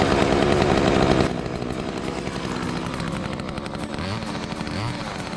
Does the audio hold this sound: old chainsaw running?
yes